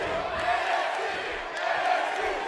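A dense, roaring arena crowd cheers steadily at an NXT event in a WWE wrestling video game, swelling slightly in waves with no pauses.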